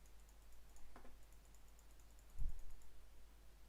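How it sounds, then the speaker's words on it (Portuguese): A computer mouse clicking, picked up by a Trust GXT 433 Pylo headset microphone: a couple of faint, brief clicks, one with a soft low thump, spaced apart over a quiet room-noise background. "E os cliques do rato,"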